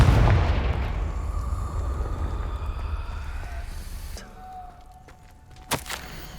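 Confringo fire-blast spell cast in Hogwarts Legacy, a heavy booming blast at the start that rumbles and decays over several seconds, followed by quieter magical tones and a sharp crack near the end.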